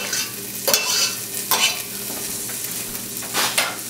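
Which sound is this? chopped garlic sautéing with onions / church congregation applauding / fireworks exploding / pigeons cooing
chopped garlic sautéing with onions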